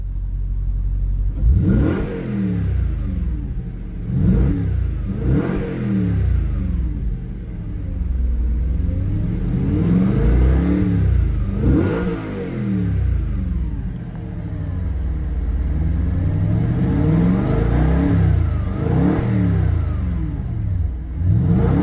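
A 2015 Audi RS5 Cabriolet's 4.2 V8 exhaust revving repeatedly in dynamic mode, with a series of loud, close throttle blips that rise and fall over a steady rumbling idle, with no talking.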